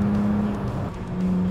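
A VW Jetta VR6 engine held at a steady hum with a slight dip and rise in throttle, close and continuous, no voices.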